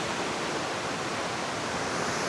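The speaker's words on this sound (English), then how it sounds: "And the water's flowing really fast." Fast-flowing river water rushes beneath a plank bridge hung on steel cables, a loud, steady, broadband roar that fills the whole stretch with no pauses.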